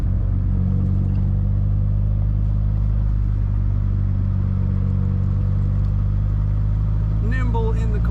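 A 1965 Triumph TR4A convertible drives with its roof off, its engine rumbling in a steady, loud drone that continues throughout, with a voice talking over it.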